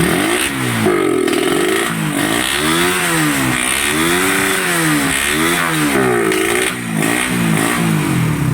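A repaired motorcycle engine revs in repeated swells, its pitch climbing and falling in wavy surges at close range, loud and alone.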